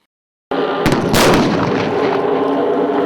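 A heavy artillery blast booms suddenly out of silence during an army exercise, followed by rolling, sustained rumble and crackling reverberation.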